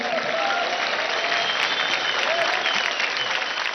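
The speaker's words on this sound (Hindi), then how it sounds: "जोरदार तालियां हो जाए" Loud, steady applause from a large studio audience at a televised dance competition audition, filling the whole stretch with dense clapping and no speech on top.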